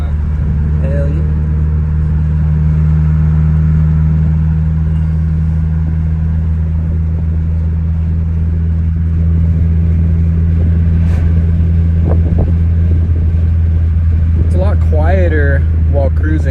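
A car cruising on a road, heard from inside the cabin as a steady, loud, low engine drone with a constant hum and road rumble throughout. A voice talks over it near the end.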